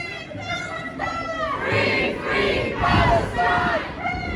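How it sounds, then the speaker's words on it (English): A protest crowd of around a hundred or more gathered outside a televised election debate venue, chanting and shouting together in loud rising surges that continue throughout. "a crowd of maybe 100, a couple hundred maybe"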